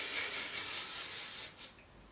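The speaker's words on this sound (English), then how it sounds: "I'm gonna use some of my big sexy hair spray" A short burst of hairspray sprayed onto hair hisses steadily, then tapers off with a brief final puff, close by and with no voices.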